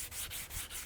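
Wooden stock of a Remington 81 rifle being sanded with the butt plate still fitted, a steady close rhythmic rasp of strokes repeating about every fifth of a second, with no talking.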